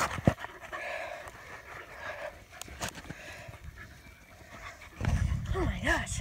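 Two dogs, Lexie and Ace, wrestling and play-fighting, with snorting, pig-like grunts, panting and scuffling, fairly close and rising in intensity toward the end, with a person murmuring now and then.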